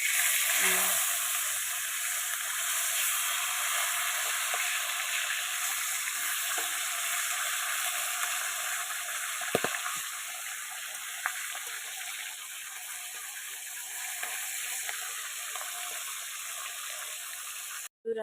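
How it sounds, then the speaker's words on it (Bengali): Pieces of fish fry in oil with a continuous, fairly loud sizzling hiss that holds steady throughout, broken by one or two faint knocks and a brief clatter at the very end. "দেখো মাছগুলো ভাজা হয়ে গেছে"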